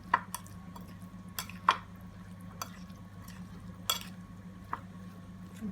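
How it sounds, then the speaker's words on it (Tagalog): A spoon stirs a beef meatball (bola-bola) mixture in a pan, giving soft scrapes and several sharp clinks at irregular intervals over a low, steady hum. "So konting halo na lang, guys."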